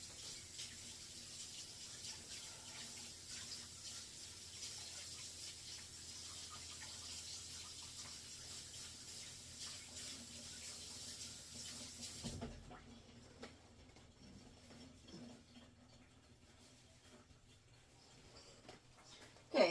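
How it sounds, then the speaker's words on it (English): Hands are washed under a running kitchen tap while baking hand pies, a steady broadband water hiss that runs for about twelve seconds, then drops to a quieter trickle with a few small knocks and a brief clatter at the end. "I'm going to go ahead and wash my hands real fast."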